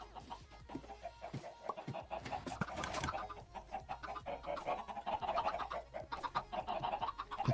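Chickens in the Minecraft video game cluck busily and continuously, several birds overlapping at moderate volume with no talking.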